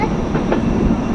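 Train pulling into platform 6 at Vadodara station, a brief close rumble of wheels and carriage noise with soft rattling, steady and loud.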